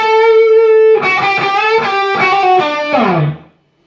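Electric guitar with distortion and effects plays the outro solo of a song high on the neck around the 12th position. One sustained note rings first, then a run of quick picked notes follows before the sound cuts off.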